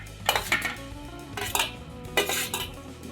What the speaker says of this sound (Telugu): ఇప్పుడు మనం దీంట్లో బంగాళదుంప అయితే యాడ్ చేసేసుకుందాం